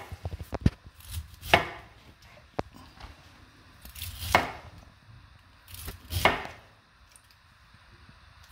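A knife slicing a pineapple on a cutting board, with a few distinct crunchy, juicy cuts spaced a couple of seconds apart and lighter taps and knocks in between, close and fairly quiet.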